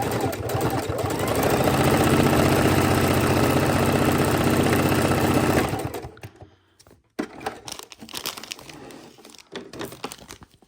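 A sewing machine stitches a row of raw-edge appliqué in a steady, continuous mechanical whir for about six seconds, then stops, followed by faint handling clicks and rustles.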